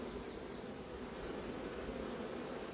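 A swarm of honey bees, collected in Ris-Orangis, gives a dense, steady buzzing hum that stays constant and close throughout, with no talk over it.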